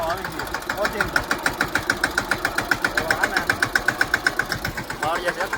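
A tractor engine chugs steadily near at hand on a ride out to a farm field, its regular low knocking pulses unbroken throughout, with voices faintly audible under the noise.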